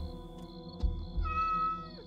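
A cat meows once, drawn out, in the horror video game DreadOut 2, over a faint electronic game hum, with a soft thump just before it.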